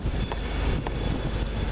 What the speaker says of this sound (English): Train coming in for Virgin Trains, the 11:41 Virgin Train service from London Euston to Glasgow Central